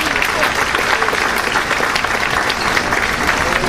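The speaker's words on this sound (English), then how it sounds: "So why don't you give them a round of applause?" Steady, dense applause from a luncheon audience honoring a chapter of the year, loud and sustained throughout, with faint voices mixed into the crowd noise.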